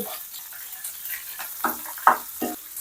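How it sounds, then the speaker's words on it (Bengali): Fish frying in mustard oil in a pan, crackling and spitting with a few sharper pops and stirring clicks, close by at moderate volume with no talking. "এই জায়গাটা দুইবারে ভাজতে হবে মাছ বেশি তো"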